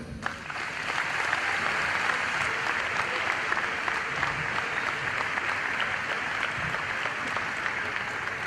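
Steady, full applause from a seated audience welcoming a speaker at a conference talk on the fourth industrial revolution, sustained and even throughout.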